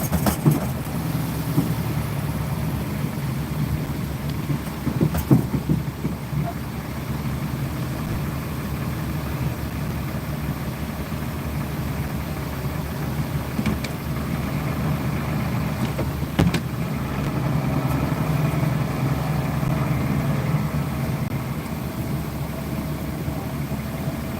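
Road traffic hums steadily, with car engines idling and passing at moderate distance and a couple of sharper knocks breaking the low rumble.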